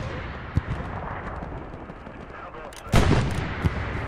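Artillery bombardment in the World War II shooter Hell Let Loose: scattered sharp shots and dull blasts over a rumbling battlefield bed, with a heavier explosion burst near the middle and a faint voice underneath.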